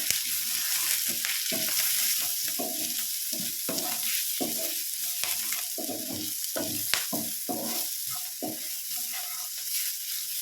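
Potato mixture seasoned with chilli powder and pepper powder is stirred in a hot pan, giving a continuous sizzle broken by frequent scraping and clacking strokes of the spoon, close and steady throughout.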